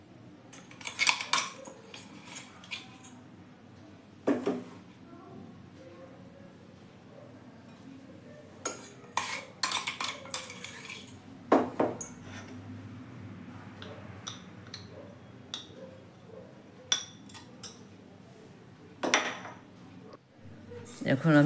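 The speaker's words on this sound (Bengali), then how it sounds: "এখন আমি কড়াই বসিয়ে দিলাম" A metal kadai (wok) and utensils set down on a kitchen stove, giving scattered sharp metallic clanks and clatters, some ringing briefly, separated by quiet pauses over a low background hum.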